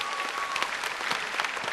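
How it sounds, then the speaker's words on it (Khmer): Audience applause breaks out for contestant Imani at a staged competition, a steady dense clatter of many hands filling the room, with no talk over it. "សូមសម្លេងអបអរសាទរជូនដល់អ៊ីម៉ានីមួយ"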